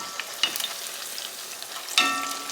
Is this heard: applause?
no